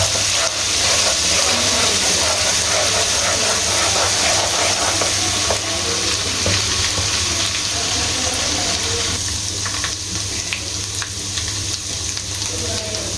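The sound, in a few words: ginger garlic paste frying in a pan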